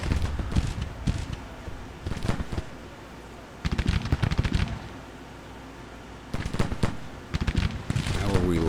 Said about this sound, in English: As long as they're just firing into this mass here, it doesn't matter who they're targeting, they're going to hit somebody with these guns.